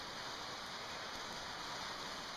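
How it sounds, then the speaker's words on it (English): Rain falls around a mountain shelter at Grayson Highlands, Virginia, a steady, even hiss with no pauses, soft and constant throughout. "here comes the rain"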